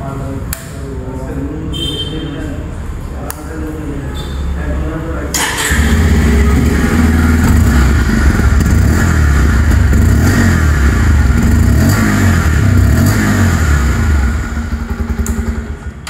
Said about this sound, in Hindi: चलिए इसका एक बार एग्जॉस्ट नोट सुना देता हूँ।